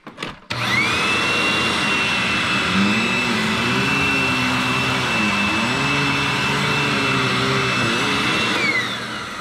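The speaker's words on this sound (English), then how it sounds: "And now my Hoover Anniversary Edition wind tunnel." A Hoover Anniversary Edition WindTunnel vacuum cleaner starts up and runs with a loud steady whine and roar, its pitch wavering slightly as it is pushed back and forth, then easing near the end.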